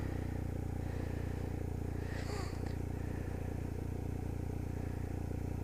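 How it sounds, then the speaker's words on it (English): A 2019 BMW R1250R Sport motorcycle engine idles with a steady low, throbbing rumble that runs unbroken throughout. It sounds close, and a brief faint rattle cuts in partway through. "I have to start the engine first."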